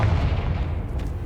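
A Confringo fire spell explodes in Hogwarts Legacy, giving a deep, rumbling boom that starts loud and close, then rolls and fades over about a second.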